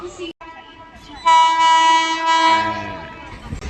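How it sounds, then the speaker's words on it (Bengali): A loud, sustained train horn blares over the rumble of the Sealdah–New Delhi Rajdhani Express passing through Dum Dum Junction, then fades as the rolling noise continues. "শিয়ালদা নিউ দিল্লি রাজধানী এক্সপ্রেস এখন দমদম জাংশন ক্রস করছে"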